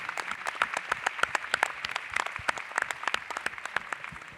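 Scattered, moderately sparse applause from an audience at a crypto conference, clapping for the event's sponsors; distinct individual claps ring out at middle distance, fairly quiet and uneven.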